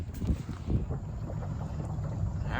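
A 1971 13-foot Boston Whaler being launched at a boat ramp, with soft water sloshing and hull movement against steady wind rumble, no talking.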